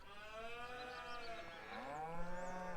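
Cattle in the Farming Simulator game moo in long, drawn-out calls that overlap and rise in pitch, fairly faint and steady throughout, with no voices.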